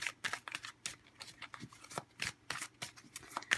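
Tarot cards shuffled by hand, a quick run of crisp papery riffles and slaps in an uneven rhythm, close and fairly quiet, with no voice.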